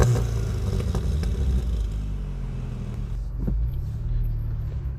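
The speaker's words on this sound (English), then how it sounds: "let's take a listen at the exhaust and experience how this car drives." A 2016 VW Golf GTI Clubsport's exhaust rumbles steadily and loud as the car drives, with a deep engine drone that eases briefly then builds again, heard up close with no talking.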